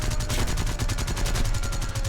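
Bomber gunners firing machine guns during a War Thunder air battle aboard an H6K4 flying boat, rapid sustained bursts of loud staccato gunfire in an even, relentless rhythm.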